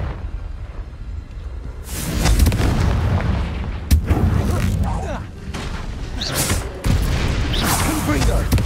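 Confringo fire spell blasts in the video game Hogwarts Legacy, several loud booming bursts a few seconds apart over a rumbling battle bed, with a voice shouting between them.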